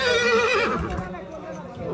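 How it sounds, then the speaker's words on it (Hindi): A horse whinnies in a rising then falling cry among horses readied at Fortress Stadium, with people talking over the lively scene. "माशाल्लाह से घोड़े रेडी हो गए हैं जी"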